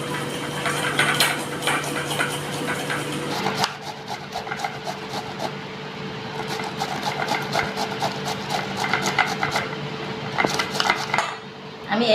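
Ridge gourd is washed and rubbed in a bowl, giving close scraping, rubbing and clinking against the bowl over a steady background hum, with irregular bursts of friction.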